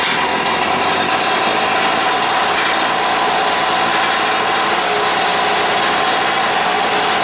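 A 49cc gas-powered RC monster truck engine runs steadily and loudly, a dense high-pitched two-stroke buzz with no pauses and no voices.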